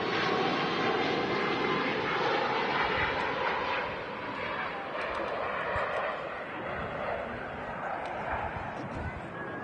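Ryanair Boeing 737 MAX 8200 jet taking off at Manchester Airport, a steady broad engine roar at moderate distance that thins slightly as it climbs, with someone talking throughout.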